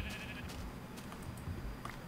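A sheep in a video game lets out a short, faint bleat at the start, over a quiet, steady background hum.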